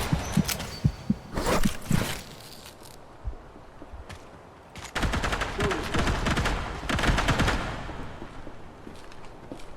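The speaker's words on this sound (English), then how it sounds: "Stop shooting me!" Bursts of gunfire in the video game Project Silverfish, during a weapons test with 5.56 and .30-06 rifles. Clusters of rapid shots crack out in separate volleys, some sharp and near and others more scattered, with short quieter gaps between them.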